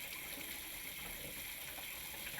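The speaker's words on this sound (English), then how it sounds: "Turn on both hot and cold water supplies. Flush water lines for about 1 minute." Water runs from a Delta Touch2O bathroom faucet with the aerator removed, flushing the supply lines in a steady, even gush that stays constant throughout with no talking.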